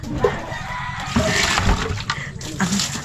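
Water runs and splashes steadily as people wash outdoors, the pouring continuous at close range with faint background movement.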